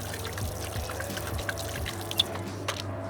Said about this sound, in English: low pressure water from your pressure washer, and then all we got to do is go around like that